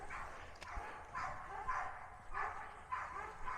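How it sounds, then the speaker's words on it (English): Several dogs, the neighbor's and the owner's own, bark in repeated bursts at a moderate distance outdoors, roughly every half second to a second, with a faint background of garden ambience. "the neighbor's dogs and my dogs all decided to make a big barking fit"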